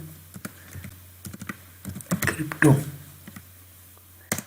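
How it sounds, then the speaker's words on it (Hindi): Typing on a computer keyboard while entering a search keyword, with quick, irregular clicks that run nearly throughout and bunch into a denser, louder burst near the middle, close to the microphone. "लेट सपोज मैं लिखता हूँ क्रिप्टो"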